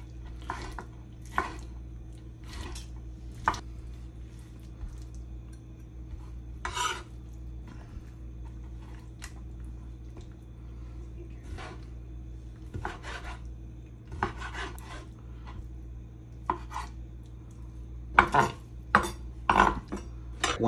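A knife cuts raw chicken into cubes on a cutting board, giving sparse, sharp chops and scrapes at irregular intervals, with quicker clustered cuts toward the end and a quiet room hum underneath.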